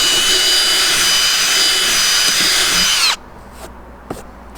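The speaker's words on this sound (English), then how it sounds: "And drill the other 2." A power drill bores holes for a trolling motor mount, whining loud and steady up close for about three seconds before it stops abruptly, followed by quieter handling noises and a sharp click.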